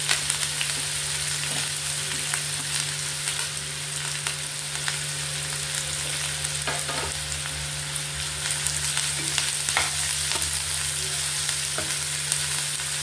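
Onions and curry leaves frying in hot oil, a steady close crackling sizzle that runs throughout with occasional small pops and stirring scrapes, no voices.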